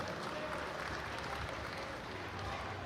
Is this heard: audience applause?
yes